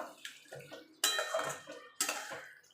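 Chicken being stirred with garam masala in a pan for a dry chicken dish, metal utensil scraping and clattering in three short bursts, close and fairly quiet.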